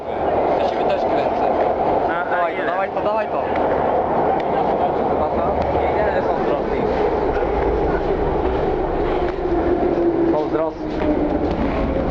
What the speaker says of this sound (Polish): To jest ruskie metro